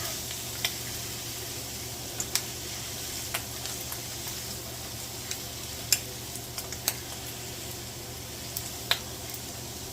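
Seasoned potato pieces sizzle and fry in a pan while being mixed, a steady quiet hiss broken by occasional sharp spatter pops and light stirring ticks.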